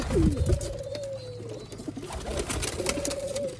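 Sialkoti pigeons on a rooftop loft give low cooing calls, a couple of drawn-out coos near the start and end with scattered chirps between, close and clear against mild background bustle.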